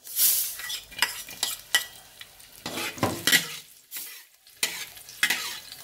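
Small unpeeled Thai garlic cloves frying in hot oil for a bitter gourd and egg stir fry, crackling up close with bursts of sizzle and scraping stirs at an uneven pace.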